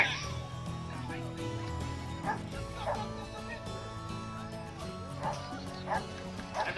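Dogs barking at a dog show in Madurai with over 200 native and foreign breeds competing, scattered yips and barks from several animals over a busy background with music and murmuring voices.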